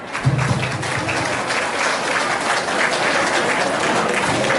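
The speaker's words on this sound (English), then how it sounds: "Please give them a big applause." Sustained audience applause at a community event in Mississauga, dense steady clapping filling the room from start to finish with a brief low murmur near the beginning.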